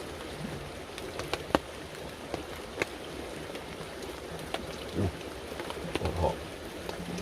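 Steady rain falling on a tarp at a winter woodland wild camp, a constant soft patter with occasional louder drops landing close by and no one talking.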